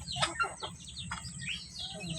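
Native country chickens and roosters being fed on a small home farm cluck and call in short, scattered bursts, soft and somewhat distant.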